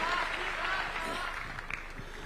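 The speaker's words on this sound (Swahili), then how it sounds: "Tumkaribishe kwa makofi tafadhali Mheshimiwa Adan Duale" Audience applause welcoming a guest onto the stage at a State House gathering of sheikhs in Nairobi, a dense wash of clapping that fades slightly over a couple of seconds while a voice speaks.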